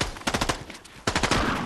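Two short bursts of rapid automatic fire from a turret machine gun in a video game, each a quick run of sharp, loud shots with a brief pause between bursts.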